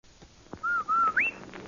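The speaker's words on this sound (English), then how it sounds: "Hey, Andy, did you hear that whistle?" A radio show whistle sound effect gives three rising, sliding pitched notes in quick succession, clear and fairly loud over faint background noise.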